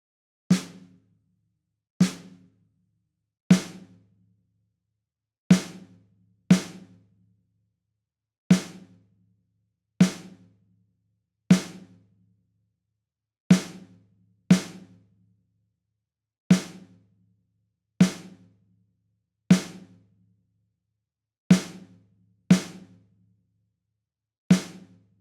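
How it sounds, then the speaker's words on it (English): Sharp wooden clicks tap out a 3/2 son clave pattern alone, evenly paced and repeated cycle after cycle, each hit crisp and short with clean silence between strokes. "So 3/2 son clave sounds like this."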